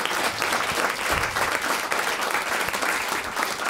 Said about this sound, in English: Can we have a big round of applause to Evan on sound and Craig on camera tonight